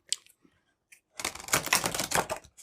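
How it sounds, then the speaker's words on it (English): Oracle deck cards riffle shuffled at close range: a couple of faint clicks, then a dense, crisp flutter of cards lasting over a second before it stops. "there doesn't seem to be any issue as far as riffle shuffling goes"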